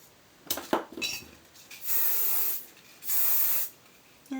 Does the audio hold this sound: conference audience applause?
no